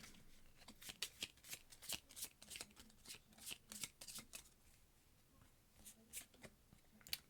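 Cards being handled and discarded during an expert Marvel Champions card game, with a series of quick, crisp slides and flicks at fairly close range, irregular throughout and without any talk.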